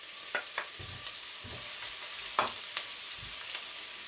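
Garlic and ginger sizzle as they fry in a pan, a steady hiss broken by several sharp stirring scrapes and clinks, close and alone.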